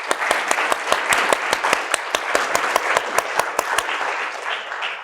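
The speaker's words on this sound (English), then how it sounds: "Let's give a round of applause to all of our veterans." A Veterans Day celebration audience applauds veterans, with sharp, distinct hand claps in a quick rhythm rising over a broad bed of clapping from a moderately sized crowd, loud and close, fading slightly near the end.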